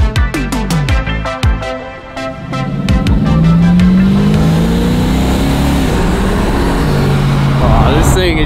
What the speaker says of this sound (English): I love a good like lumpy V8. Sounds great.